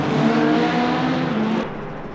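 A number 83 Ferrari race car in Le Mans Ultimate at Bahrain drones past with a loud, steady high engine whine that holds, then drops in pitch and fades as it moves away.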